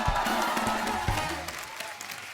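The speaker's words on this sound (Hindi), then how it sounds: "एक बार गुलशन जी के लिए तालियां हो जाए यार।" A studio audience at The Kapil Sharma Show applauds for actor Gulshan Grover, a brief burst of clapping that tapers off over a couple of seconds.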